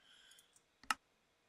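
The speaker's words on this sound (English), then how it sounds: "I can click on here and then click on here" A single sharp computer mouse click stands out near the middle, brief and close, over faint background hum with no talking.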